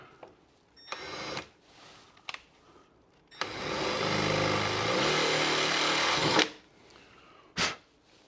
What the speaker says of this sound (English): I'm going to drill me a little hole here.